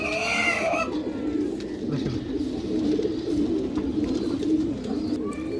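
Giribaj pigeons coo continuously in a low, throaty murmur, several birds overlapping close by, with a brief higher chirp at the start.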